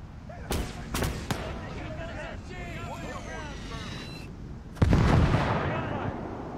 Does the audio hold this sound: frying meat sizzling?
no